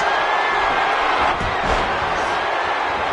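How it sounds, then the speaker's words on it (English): A crowd at a live broadcast match roars and cheers in a dense, continuous wash, with a louder surge in the middle and no clear single voice standing out. "You can hear this crowd."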